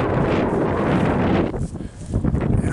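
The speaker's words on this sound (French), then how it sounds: "Il y a un sacré vent." Strong wind buffets an outdoor microphone, a loud continuous low roar with rumbling gusts that dip briefly near the end before surging back.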